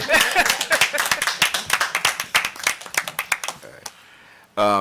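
Council meeting audience clapping in a quick burst of sharp, separate hand claps that thins out and fades, followed by a voice starting to speak at the end.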